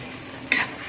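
Pineapple sweet and sour chicken being stirred in a pan, a single short scrape-and-sizzle burst about halfway through, rising briefly over a low steady frying hiss.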